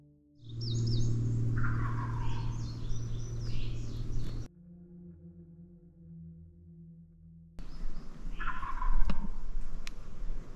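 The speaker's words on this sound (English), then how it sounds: "And now I wait for four gobbles." A stubborn late-season wild turkey gobbler in Alabama gobbles loudly in rattling bursts, first in a long run, then again after a quiet gap, with outdoor background noise.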